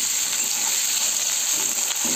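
Potatoes and green chilli dropped into hot oil with bay leaf tempering, a loud, steady, close hiss of frying with no pauses.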